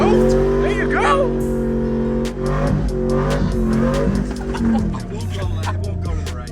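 A car with an open differential spins donuts at a shop, engine revving and droning under strained, wavering tire squeal as one wheel spins, loud and close, with short sharp clatters near the end.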